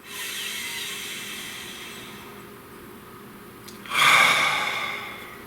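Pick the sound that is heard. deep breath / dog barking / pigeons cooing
deep breath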